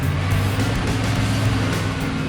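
A 1995 Chevy Tahoe 4x4 climbs a dirt hill, its engine a steady, continuous drone with a low rumble that holds even throughout, with no talk over it.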